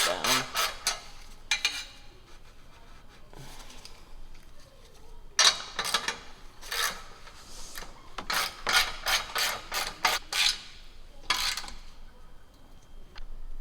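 A ratchet fitted with a 16mm deep socket clicks in short bursts of rapid ratcheting strokes while tightening an exhaust bolt on a 2018 Subaru WRX catback, fairly quiet and close, with pauses between bursts.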